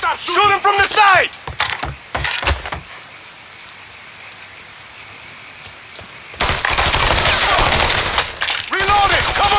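Rapid gunfire bursts in a Mafia 3 firefight crackle loud and close, a dense volley at the start, a quieter lull, then a sustained barrage to the end, with shouting voices mixed in at the beginning and near the close.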